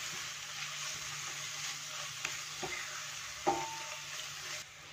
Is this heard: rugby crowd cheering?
no